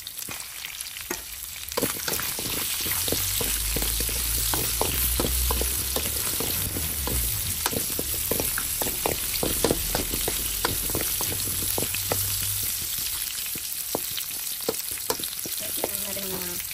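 Chayote sautéing in chicken oil in a pan for tinola, with a continuous close sizzle and frequent scraping stirs throughout.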